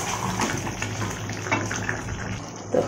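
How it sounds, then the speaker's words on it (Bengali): Hot water poured into a pan of chicken curry, a close splashing pour with soft bubbling and a brief louder gush near the end, no talk. "তো এবার আমি দিয়ে দিলাম গরম জল।"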